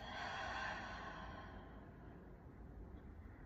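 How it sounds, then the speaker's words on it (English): A slow, steady exhale through the mouth during a yoga breathing sequence, a soft breathy rush that is strongest at the start and fades over a few seconds, heard alone and close. "Inhale through the nose. Exhale through the mouth."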